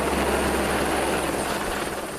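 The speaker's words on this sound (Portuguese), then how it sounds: "São os helicópteros mais pequenos." A small firefighting helicopter flies overhead in Portugal, its steady rotor drone and engine roar loud and continuous throughout, with no voices.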